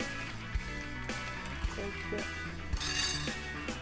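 A cocktail stirred gently in a glass, with soft clinks and taps of a spoon against the glass recurring every second or so over a continuous background hum.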